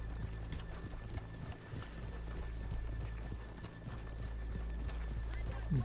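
Horse hooves clip-clop steadily in Red Dead Redemption 2, a continuous near, moderately loud trotting rhythm over game ambience, with a whinny and faint background murmur.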